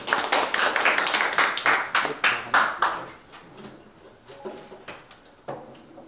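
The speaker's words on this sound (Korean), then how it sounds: "자, 박수 한번" Audience clapping after a history lecture, a burst of close, loud claps for about three seconds that thins out into scattered, fading individual claps.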